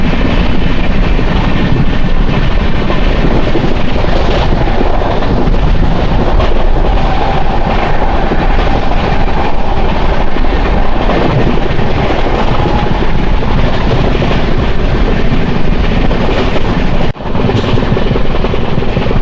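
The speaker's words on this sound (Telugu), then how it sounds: "30 నుంచి 45 టన్నులు ఉన్న ట్రైన్ 120 స్పీడ్లో వెళ్తే ఎలా ఉంటుందో తెలుసా?" Heard from close by, the Janmabhoomi Superfast Express 12806 on the Lingampalli–Visakhapatnam run speeds along at 120 km/h in rain, a sustained loud rumble and rushing roar with rhythmic track clatter and a brief dip near the end.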